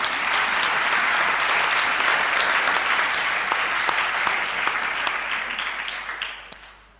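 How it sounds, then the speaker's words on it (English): A dense, steady round of audience applause at a formal address by the executive director of the Office of the Judiciary, loud and sustained, then thinning and fading out over the final second. "You can give me a round of applause."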